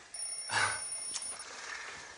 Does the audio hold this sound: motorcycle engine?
no